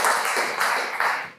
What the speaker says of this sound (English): All we need is to get started is a round of applause